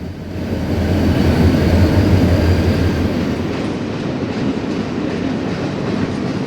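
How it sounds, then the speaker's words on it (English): The California Zephyr passenger train of 1969 meets a short westbound local freight in Price Canyon, with a steady, loud rumble of rolling rail cars and faint clickety-clack throughout, with no voices. "A short westbound local freight meets the Zephyr."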